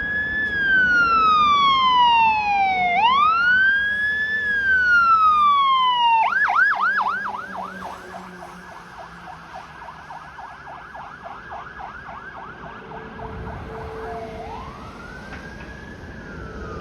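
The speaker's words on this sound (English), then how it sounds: "Their sirens are very loud." A fire truck siren passing on a Toronto street, loud and near, sweeping up and down in long wails before switching to a rapid yelp and then returning to a slow wail as traffic rumbles beneath.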